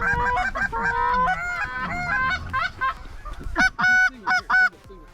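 Flock of Canada geese honking repeatedly overhead during a Missouri goose hunt, a dense chorus of overlapping calls that thins and then returns as loud, close bursts of honks near the end.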